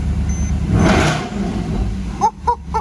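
A car engine runs steadily just after starting, with a broad, close rumble that swells briefly mid-clip and a few short bumps near the end.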